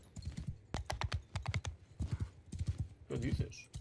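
Horse hooves clip-clop in a rapid, uneven rhythm in the medieval combat game Mount & Blade II: Bannerlord, loud and close, with someone speaking Spanish over the hoofbeats.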